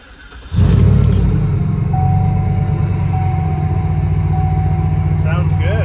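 A Y2K Cadillac concept car engine, stock except for its exhaust, starts up and settles into a steady idle, with a deep, loud exhaust rumble and a faint high whine above it.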